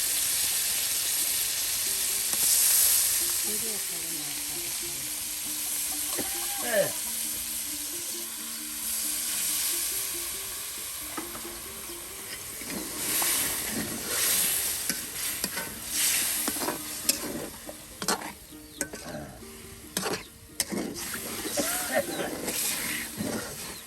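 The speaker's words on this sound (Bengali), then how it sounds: "আর এখানে কিন্তু আপনার মাছের টুকরাগুলো দেওয়া হবে। এই যে দিয়ে দেওয়া হচ্ছে মাছ।" Pieces of rohu fish sizzling as they go into a pan of spice masala, with stirring and scraping clatter over a steady frying hiss, partly under a voice talking.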